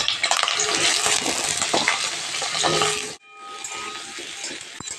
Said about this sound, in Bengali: আলুগুলো প্রথমে ভেজে নেব।